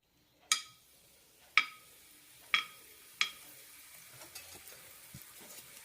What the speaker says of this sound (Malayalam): ഈ ഒരു വലുപ്പത്തിലുള്ള കായം വറുത്തെടുക്കാം